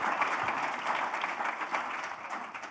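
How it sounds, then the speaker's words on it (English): An audience gives a short, dense round of applause to welcome two speakers at an art-talk event, steady clapping throughout with no pause. "a quick round of applause to welcome Douglas and Paul"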